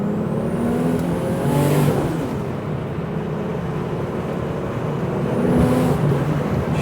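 Engine of a modified 1992 RWB wide-body Porsche 911 Turbo with over 640 horsepower, a loud steady drone with turbo induction whistle rising and falling as it pulls along, heard up close without talk.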